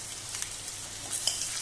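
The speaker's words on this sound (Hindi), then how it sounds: "अब हम इसमें कुंदरू को धीरे धीरे छोड़ देंगे।" Ivy gourd (kundru) pieces sizzle in hot oil for besan kundru sabji, a steady soft frying hiss with a few faint clicks of pieces dropping in, no talking.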